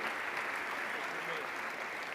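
Steady applause fills an awards ceremony for economy and development as a business owner goes up to collect a prize, a continuous dense patter of many hands with no break.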